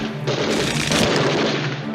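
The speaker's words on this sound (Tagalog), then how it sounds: "binulabog ang katahimikan ng umagang iyon ng mga putok ng baril sa paligid" Gunfire ringing out around a rural sitio at morning, a dense, sustained burst of shots and booms that fills the whole moment loudly with no pauses.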